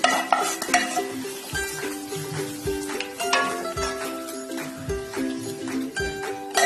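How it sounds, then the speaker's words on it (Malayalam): Masala is stirred into chicken stock in a pot for chicken stock biriyani, producing repeated clinking scrapes of a spoon against metal over a soft simmering sizzle, close and continuous. "മസാല ചേർത്ത് കൊടുത്തിട്ട് നന്നായിട്ട് ഇളക്കി കൊടുക്കുക."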